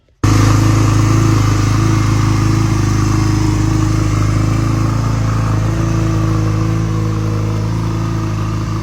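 A 1985 Honda Rebel bobber motorcycle engine catches abruptly and settles into a loud, steady idle that chugs evenly up close, with no voices over it.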